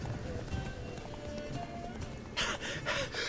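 Horse galloping in the video game The Witcher 3, with rapid hoof clip-clop running steadily under game ambience and a louder burst of movement near the end.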